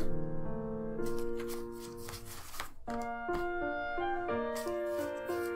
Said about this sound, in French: Donc maintenant, je vais sélectionner les cartes.